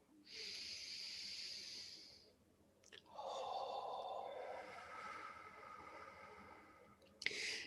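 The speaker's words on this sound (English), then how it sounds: "take another nice deep breath, breathing in" A slow, deep inhale during a guided spiritual meditation, a soft airy breath drawn in close to the microphone with no talking, followed by a breathy exhale and a brief click near the end.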